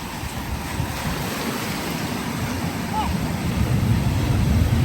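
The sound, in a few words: ocean waves crashing at the beach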